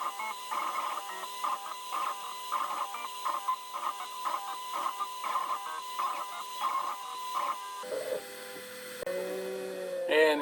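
A CNC router spindle running at 15,000 RPM while a V-bit carves a Christmas ornament, producing a rhythmic, repeating whine in regular bursts, then a shift to a different tonal pitch near the end, fairly faint and close with no talking.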